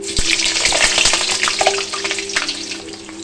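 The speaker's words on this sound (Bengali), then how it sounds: "এখানে আমার তেল গরম হয়ে গেছে এবার আমি কড়াইয়ের মধ্যে আলুগুলো দিয়ে দেব" Potatoes drop into hot oil in a wok and burst into a loud, close sizzle with a sharp knock at the start, crackling intensely and then easing slightly as the frying settles.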